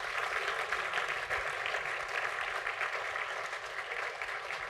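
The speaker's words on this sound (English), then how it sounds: "Please give them a round of applause." An audience at a memorial lecture claps in sustained applause, a dense even patter of many hands heard from a distance, fairly quiet and without talk.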